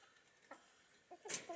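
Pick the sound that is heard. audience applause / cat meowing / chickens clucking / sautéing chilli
chickens clucking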